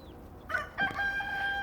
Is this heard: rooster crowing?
yes